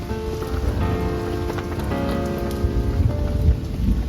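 Steady rain falls on a campsite, a dense, continuous patter of drops striking surfaces close by, even and unbroken throughout with no voices.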